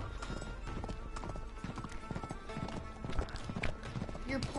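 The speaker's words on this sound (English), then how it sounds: "Wait, I can control the horse?" Rhythmic hoof clops of a horse in the video game Uncharted 3: Drake's Deception trot along steadily beneath a busy, noisy background, with voices talking over them.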